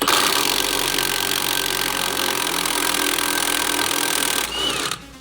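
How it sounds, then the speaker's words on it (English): An impact gun works on a corroded rear shock absorber bolt of a Land Rover Freelander 2 with a loud continuous rattling whir that runs steadily for about four and a half seconds, then cuts off abruptly. "allow us to get in now with the same gun, and that should take that bolt out"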